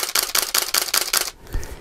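Rapid run of Nikon D700 camera shutter releases, about six sharp mechanical clacks in quick even rhythm, close and loud, then a softer final clunk as the burst stops.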